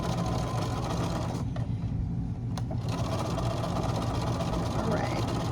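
A sewing machine stitching fabric for a square bucket hums with a steady, rapid mechanical chatter close to the microphone, pausing briefly around the middle, while a person talks over it.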